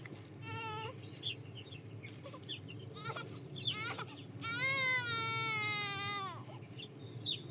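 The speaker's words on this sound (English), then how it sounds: "it sounded like a child crying" A child's drawn-out, wavering cry rises and falls, longest near the end, apparently carried from a bridge in a Kentucky urban-legend setting and heard over a low, steady background rumble.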